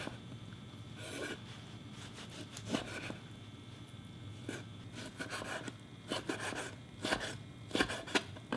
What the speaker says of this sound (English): This is brisket. Cut this along the grain.